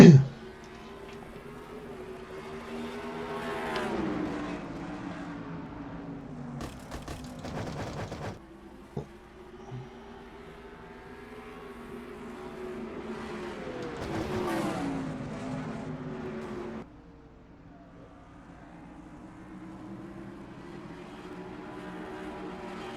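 Stock race cars at Richmond in a racing video game roar and accelerate at a restart, engine notes rising and falling as the pack passes, with a few rising revs and a quieter drone toward the end.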